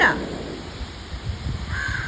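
A single crow caws once at the start, then another faint call near the end over a quiet outdoor background.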